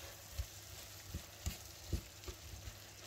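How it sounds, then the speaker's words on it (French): Chicken curry with sliced green olives simmering in a pan, a soft steady sizzle with a few faint spoon knocks and stirring taps. "Vous allez laisser mijoter encore quelques minutes"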